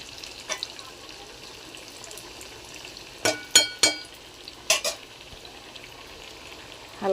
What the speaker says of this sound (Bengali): এখানে কড়াইয়ে তেল দিয়ে দিয়েছি, তেলটা গরম হয়ে গেছে। আমি মাছের চপগুলো এক এক করে ছেড়ে দিলাম।